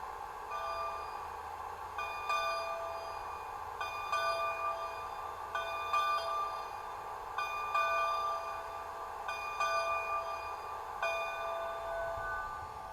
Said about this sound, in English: this is still bell number 4